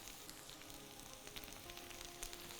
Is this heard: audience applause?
no